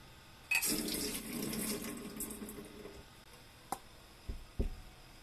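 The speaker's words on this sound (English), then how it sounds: "Drain the water." Water drained from soaked rice pours and splashes briefly into a sink, then trickles away, followed by a few light knocks and clatters nearby.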